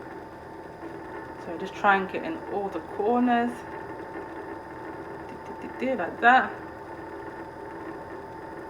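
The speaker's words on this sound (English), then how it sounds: "My oven is already preheated. I'm sure you can hear it in the background." A preheated kitchen oven runs with a faint, steady hum in the background, while a person talks over it in short phrases.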